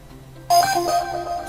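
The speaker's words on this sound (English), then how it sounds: "use just a little sound notification if you want to make it more subtle" A bright tonal chime from the DealCount software notification alert rings out suddenly after near silence, its ringing tones sustaining and slowly fading, alone without speech.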